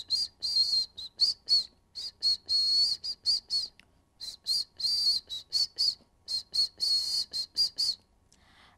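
A series of sharp, high-pitched whistles in short bursts and longer held notes, repeated rhythmically with brief pauses, fairly close and loud, no talking.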